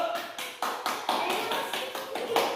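A class of students claps hands together in a classroom, a series of distinct rhythmic claps about four per second, fairly close and crisp, with slight unevenness between hands.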